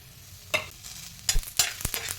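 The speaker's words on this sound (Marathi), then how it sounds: "त्यावर आधी कांदा भाजून घेऊया, खोबरं, कलमी, जिरे पण भाजून घेणार आहोत।" Onion, coconut, cinnamon and cumin being dry-roasted and stirred in a pan for an aloo vada curry, giving a low sizzle with several sharp scraping stirs close by and no talking.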